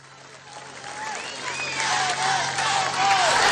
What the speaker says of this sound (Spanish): Un aplauso para el talento de Corazón Urbano